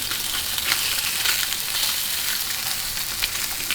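Spam slices frying in a hot pan, turned down to lower heat to crisp; a steady, close, even sizzle and crackle with no voices.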